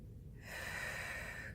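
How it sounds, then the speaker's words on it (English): A person breathes during yoga shoulder rolls, taking one long, close, airy breath that starts about half a second in and holds steady to the end, with no talking. "You should feel yourself and hear yourself breathing."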